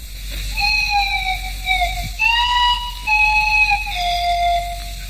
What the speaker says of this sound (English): when they hear that swanny whistle, they think it's the clangers.